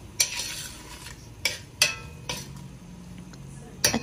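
Chicken chow mein noodles being stir-fried in a pan with a spoonful of black pepper, with a soft sizzle under several sharp metallic scrapes and clinks of a utensil against the pan, spaced irregularly and close by.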